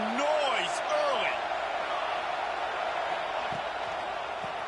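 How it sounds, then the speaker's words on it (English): Steady roar of a college football stadium crowd, a dense continuous wash of cheering and noise throughout, with a few brief whistle-like tones rising above it early on. "This crowd bringing the energy and noise early."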